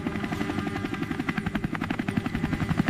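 A helicopter over mountain terrain comes in to land, its rotor chopping in a steady, fast pulse with a loud engine drone throughout.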